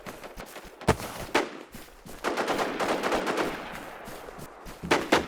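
Bursts of automatic gunfire crackle through a NewZ zombie-survival game session, with sharp single cracks and a long dense stretch of rapid shots, loud and close, then further volleys near the end.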